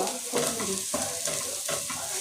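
Green beans stir-fried in a pan with capsicum, green chillies and spring onion nearby, giving a steady sizzle broken by several scraping stirs of a spatula, close and fairly loud with no talk.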